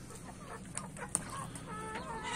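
A rooster kept on a farm gives a few soft clucks at moderate distance, with a couple of sharp brief accents among quieter background noise and no talk.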